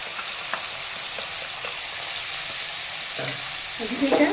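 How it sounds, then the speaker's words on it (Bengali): Masala sizzles steadily in hot oil for a snakehead fish curry, a continuous frying hiss with a few soft stirring knocks and a brief louder scrape near the end. "ভেজে নিচ্ছি লাল করে ভেজে নেবো"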